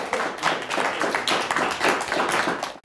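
An audience at a quiz competition claps for both teams, a brisk round of many hands with clear individual claps that carries on steadily and stops abruptly at the end.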